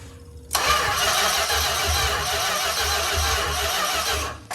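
A 1972 Imperial's engine is cranked by the starter in one continuous, loud, churning burst lasting several seconds without catching, then it stops, with no voices over it.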